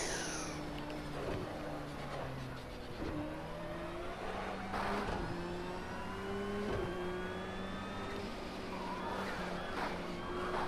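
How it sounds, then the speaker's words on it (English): A racing video game car engine whines steadily, with a high turbo-like whir rising and falling as the car brakes, slows and speeds up, continuous and loud throughout. "that turbo whir when you hit the brakes is kind of strange"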